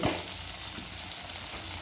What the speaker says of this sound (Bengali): লাল লাল আলু ভাজা হয়ে গেছে এবার আমি বেগুন দেব